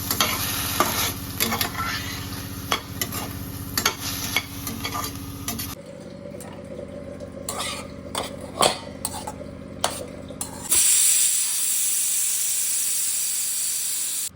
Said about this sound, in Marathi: थोडे काजू बदाम तुपामध्ये रोस्ट करते